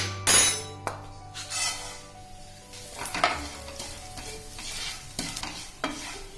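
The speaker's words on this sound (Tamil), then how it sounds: "பேன்ல நம்ம சேமியா வறுத்துக்கலாம்." Vermicelli sizzles and fries in ghee in a pan on a stove while a utensil stirs and scrapes, with occasional clinks against the metal, close and moderately loud.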